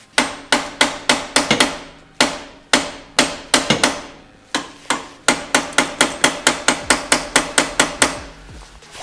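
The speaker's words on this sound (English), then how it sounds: "I know, it's weird like banging on your engine" A hammer strikes the alternator of a Porsche 911 Carrera engine over and over, about thirty sharp metallic blows in a loud, fairly steady rhythm with brief pauses, close up and with no talking.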